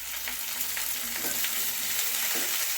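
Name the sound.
sautéing okra and curry leaves in oil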